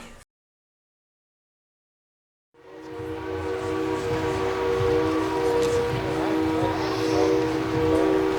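After a brief silence, a steam locomotive rumbles in by the locomotive shop at Tweetsie Railroad, a sustained steam whistle blowing over the heavy, rolling train noise.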